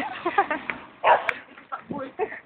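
A dog barks in a few sharp bursts close by while people talk and call out nearby, the yelps mixed in with the voices.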